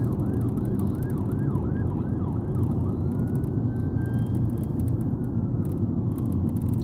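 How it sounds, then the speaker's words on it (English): An ambulance siren wails in repeated rising and falling sweeps on a highway at night, then settles into a steadier tone, heard over the loud, constant rumble of road and wind noise inside a moving car. "That's all you see and hear. Ambulances."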